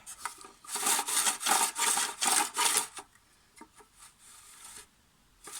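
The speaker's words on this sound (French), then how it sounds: "C'est des vieux lanceurs et ça fait un peu de bruit." An old recoil starter on a Briggs engine gets pulled in a quick run of rasping, rubbing strokes, about six loud pulls in a row, followed by quieter scattered scrapes and clicks.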